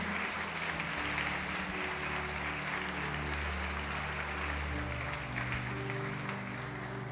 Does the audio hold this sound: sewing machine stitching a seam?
no